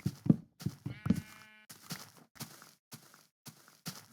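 Short sheep bleats in Minecraft, with a wavering bleat in the middle among soft clicks and steps; close and moderately loud.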